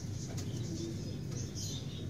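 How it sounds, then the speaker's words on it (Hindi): A Parmoch pigeon coos softly against a steady low background hum, with faint bird sounds over about two seconds. "ये परमोच का कबूतर है गाइस"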